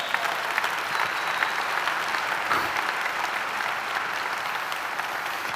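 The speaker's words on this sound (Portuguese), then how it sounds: "Pode aplaudir." A church congregation applauds during a sermon, producing a steady, dense roar of clapping that holds at an even level throughout.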